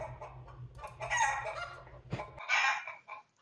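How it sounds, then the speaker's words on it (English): Chickens running around in the background cluck and crow in a few short, faint bursts, picked up through a Logitech Zone Vibe Wireless headset mic. "there were chickens running around in the background"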